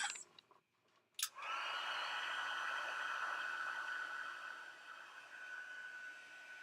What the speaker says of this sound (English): And then I use my heat tool.